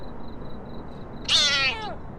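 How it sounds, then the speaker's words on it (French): A cat meows once in the Scary Shawarma video game, a single clear, rising-then-falling call near and loud over a faint steady hum and a soft repeating electronic tone. "Il y a un chat."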